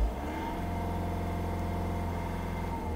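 A car engine hums steadily with a slight swell in revs, heard from inside the vehicle as a dense, even drone at moderate level without speech.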